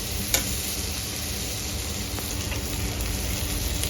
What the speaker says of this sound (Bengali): পেঁয়াজটা একটু নরম হওয়া পর্যন্ত ভেজে নিতে হবে।